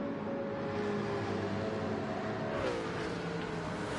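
Engine drone from a Porsche race car in a racing video game, a steady close mechanical hum with a brief pitch dip as it lifts and shifts, running alone without any voices.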